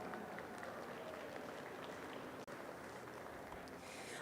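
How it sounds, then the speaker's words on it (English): A crowd at a junior livestock show applauds for the seniors in an arena, a broad, continuous wash of clapping and crowd noise that stays at an even level throughout. "please help give me these seniors a round of applause out here"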